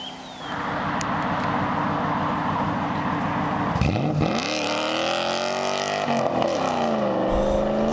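A race-tuned Audi V8 Quattro engine roars loudly, idling steadily before revving hard and climbing through the gears with a sustained, rising howl close by.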